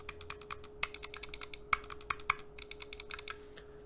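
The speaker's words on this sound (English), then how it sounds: "Now let's hear all the clicks on this Genesis Zircon 550. So this is left and right click." Rapid clicking from the left and right buttons of a Genesis Zircon 550 wireless mouse, a steady run of sharp, close, crisp clicks with no voice over them.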